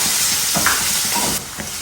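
Onions going into hot oil in a home kitchen while making chili chicken give a steady, close sizzle and hiss with a brighter burst of spitting partway through, then a slightly quieter frying texture.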